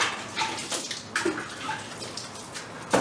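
A car hood is wet sanded with water, producing a close, continuous wet scrubbing hiss with small splashy accents, fairly steady throughout.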